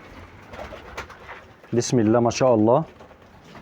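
A pair of young homing pigeon squabs coo close by in a few throaty, rolling bursts, with someone speaking briefly before them and faint room noise around.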